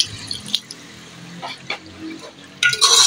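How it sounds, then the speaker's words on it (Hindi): A little water is poured into frying kofta curry masala in a pan, giving quiet, sparse splashes and trickles that end in a louder burst of sizzling. "थोड़ा सा पानी ऐड करते हैं इसके अंदर"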